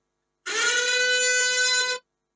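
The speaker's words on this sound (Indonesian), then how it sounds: "Di antaranya sirine" A single steady electronic siren alarm tone from a find-my-phone app sounds for about a second and a half, then cuts off abruptly.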